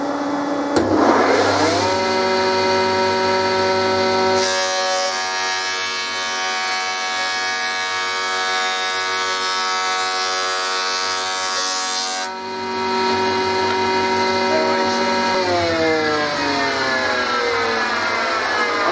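A planer machine with freshly sharpened blades runs with a loud, steady, close whine full of strong harmonic tones. It starts up with a clatter, and its pitch and texture shift partway through as the cut changes.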